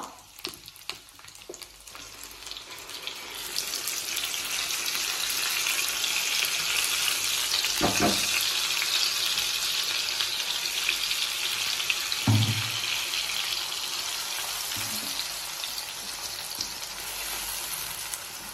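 Onion and tomato paste frying in a pan with fish, a steady broadband sizzle throughout with a few sharp stirring clatters, close and moderately loud, no talking.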